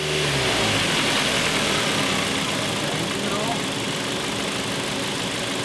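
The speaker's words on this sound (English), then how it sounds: "Let it idle, Joe." A car engine idles during a vacuum leak check with carb cleaner and a scanner, a steady loud rumbling drone throughout.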